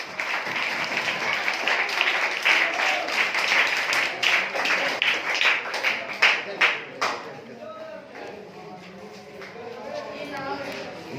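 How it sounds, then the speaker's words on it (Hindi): Applause from a school audience greets a quiz contestant at a quiz programme at GHS Mangoki Virkan, dense clapping filling the first seven seconds before fading as a presenter's voice takes over. "मिस्टर अब्दुल्ला के लिए भी बहुत सारी तालियां होनी चाहिए।"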